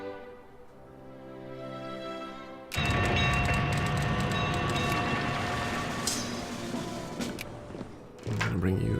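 A train sound effect in the video game Victoria II: a soft tonal hum gives way to a loud, sustained rolling rumble with clattering texture that holds steady to the end, with no talking.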